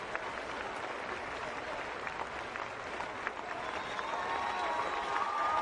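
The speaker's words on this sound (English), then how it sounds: "That's the applause from the Lions fan base here." Sustained applause from a large Southeastern Louisiana Lions crowd at a college football game against Sam Houston State, a dense continuous patter of clapping that swells slightly toward the end, with faint voices mixed in.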